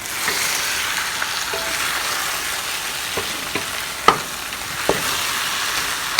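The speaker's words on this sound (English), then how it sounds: "I'm going to dump my onions" Chopped onions go into a hot pot for an oxtail and short rib stew, setting off a continuous loud hiss of frying with a few clinks and scrapes as they settle.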